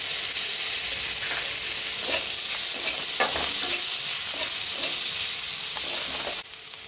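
Onion, garlic, green chilli and turmeric fry and get stirred in a pan for masala dosa filling, giving a steady close hiss of sizzling oil with scattered scraping stirs throughout, no voices.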